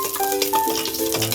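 Butter sizzles in a pan ahead of sautéing garlic for a chicken dish, a brief crackling fry with stirring scrapes and faint tonal clinks, close and fairly loud.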